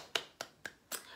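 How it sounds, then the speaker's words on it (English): Four quick, crisp hand claps land in an even rhythm, close and fairly soft. "Clap."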